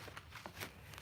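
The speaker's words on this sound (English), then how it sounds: "I'm going to shuffle them down" Tarot cards shuffled down by hand, a brief soft riffling patter of card edges up close and alone.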